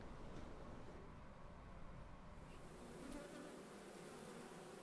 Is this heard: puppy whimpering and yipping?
no